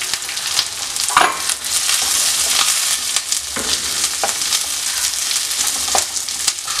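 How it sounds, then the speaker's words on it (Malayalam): Onions and green chillies sautéing in a pan for a prawn roast. The sizzle is loud and steady, broken by repeated scrapes and stirring knocks, with no voices. "ഉള്ളി ചേർത്ത് വഴറ്റിയെടുക്കാം."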